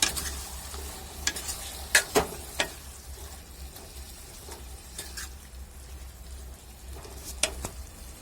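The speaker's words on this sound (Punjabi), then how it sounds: "ਢੱਕਣ ਤੋਂ ਬਗੈਰ ਪਕਾਵਾਂਗੇ ਜੀ ਹੁਣ ਇਹਨੂੰ 15 ਮਿੰਟਾਂ ਲਈ" A methi and potato sabzi cooks uncovered in a pan, with a soft continuous sizzle broken by several sharp scraping stirs of a spoon against the pan.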